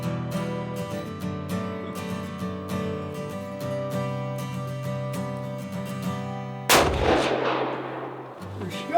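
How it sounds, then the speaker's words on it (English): A single sharp rifle shot rings out during a deer hunt in Michigan, aimed at a doe. A steady tonal drone precedes it, then a loud crack and a decaying echo rolling off the surroundings. "we decided to take the shot"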